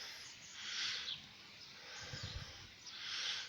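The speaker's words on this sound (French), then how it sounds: "je vais vous laisser sur ces belles petites images avec le chant des oiseaux, le bruit de la nature." Faint birdsong drifts over a quiet vegetable garden on a warm early summer morning, with a few soft distant chirps and calls rising and fading against a low hush.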